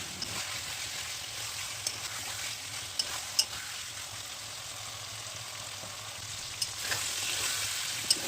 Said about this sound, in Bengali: এখন আবার চিকেনটাও কষাচ্ছি এই কড়াইয়ের মধ্যে